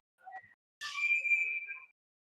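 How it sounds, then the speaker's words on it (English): A referee's whistle sounds at an ice hockey game, a single sustained shrill blast heard fairly near and alone, preceded by a brief faint chirp. "And we got a whistle here."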